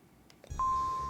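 A short electronic beep from a phone sounds once, a steady clear tone holding briefly over faint room noise.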